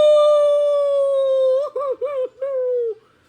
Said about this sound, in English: Patches started howling again